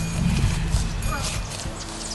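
Horses galloping across an open field as three riders chase an ox at a rural rodeo-style run, hoofbeats loud and continuous under nearby talk.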